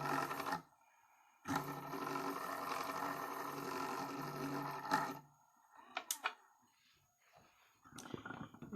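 A JoolTool sharpening and polishing tool runs steadily in two stretches, a short burst then about three and a half seconds of continuous whirring, followed by quieter scattered clicks and handling noises.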